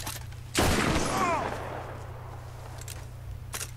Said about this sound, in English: I shot him in the goddamn back!